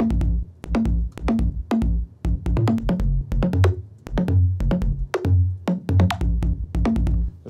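A sub bass synth pattern from an electronic music track, heard alone. Punchy, deep notes pulse in a syncopated rhythm, with short gaps between the hits and a few quieter stretches.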